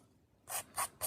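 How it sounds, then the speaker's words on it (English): Rough side of a nail buffer rubbed over the outer edges of the nails: three distinct raspy strokes, close and fairly loud, after a brief quiet pause, with no talking. "I'm going to use the rougher side of my buffer on the outside edges."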